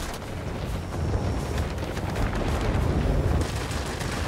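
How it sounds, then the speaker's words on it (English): Aircraft machine guns and cannons firing in the World of Warplanes video game: dense, continuous rattling gunfire with heavier booming bursts, loud and sustained throughout, mixed over a steady engine roar with no speech. "I can actually damage ships with my machine guns and cannons"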